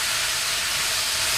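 Pork with lemongrass stir-fries in a pan over high heat, giving a loud, continuous bright sizzle and hiss with no voices.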